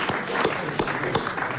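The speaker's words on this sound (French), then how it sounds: "Et il s'applaudit, hein?" On a 1997 French TV game show, a studio audience applauds in a short burst of loud clapping with a few distinct sharp claps.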